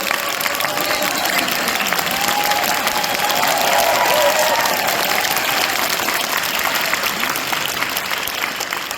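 Loud, sustained applause from a large crowd at a political talk show in Daegu, dense and even throughout, with faint cheering mixed in.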